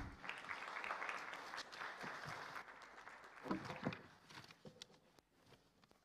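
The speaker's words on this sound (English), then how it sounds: "A big round of applause" Applause from delegates greets the president at the East Africa Law Society annual conference, a steady wash of clapping across a large room, moderately distant, with a few voices mixed in and a softer tail near the end.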